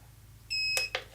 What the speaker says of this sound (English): and the beep.